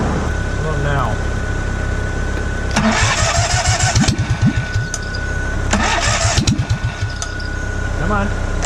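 An engine that is not getting fuel cranks in two loud bursts over a steady running drone, close by, with voices talking over it.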